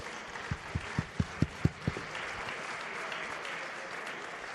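A short burst of hand claps at an awards ceremony, about seven distinct claps in a quick rhythm, fading into a low murmuring room ambience.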